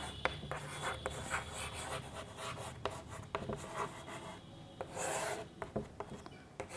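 Handwriting out a maths solution for a class three subtraction lesson, with steady scratchy rubbing strokes broken by sharp taps and one longer rasping stroke, close and alone.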